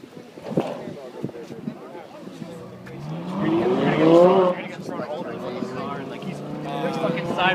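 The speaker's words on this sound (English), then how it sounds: "He's fucking sideways, accelerating, going over the bump." A Lamborghini sliding sideways and accelerating hard over a bump, its engine rising in pitch as the tires scrub, with excited voices talking over the car throughout.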